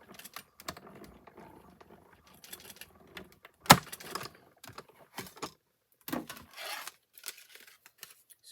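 Paper being cut with scissors at a crafting table with embossed plates, giving a series of short, soft snips and rustles, one sharper crack partway through, fairly close and quiet with no talking.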